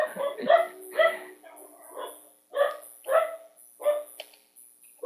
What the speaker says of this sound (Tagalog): Ayun na kayo maingay yung mga aso namin.